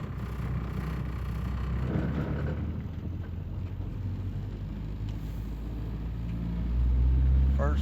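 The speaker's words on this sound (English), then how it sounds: "We are in first gear. Let's see if it works. We are rolling." A 1986 Honda Accord with a swapped Integra transmission rolls slowly in first gear, a low steady engine and road rumble with wind buffeting that swells louder near the end, while a voice talks faintly over it.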